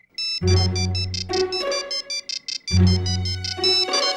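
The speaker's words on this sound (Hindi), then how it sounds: "यार छवि का फोन है" A phone ringtone plays a bright, repeating melodic phrase twice, loud and close, with no voices over it.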